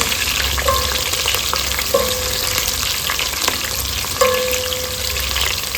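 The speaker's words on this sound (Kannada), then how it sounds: "ಎರಡು ಈರುಳ್ಳಿನ ಕಟ್ ಮಾಡಿ ಹಾಕೊಳ್ತಾ ಇದ್ದೀನಿ ಚೆನ್ನಾಗಿ ಫ್ರೈ ಮಾಡ್ಕೊಳ್ಳೋಣ" Two chopped onions fry in hot oil in a pan, giving a loud, continuous close sizzle with a few scraping stirs and light clinks of a utensil. No talking is heard.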